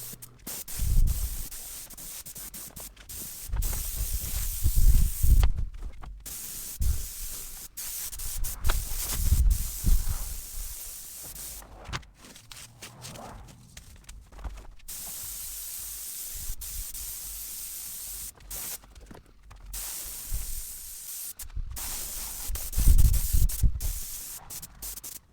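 Airless paint sprayer spraying paint inside a camper under remodel, a steady hissing spray broken into bursts with short pauses and triggers, fairly close with no talk.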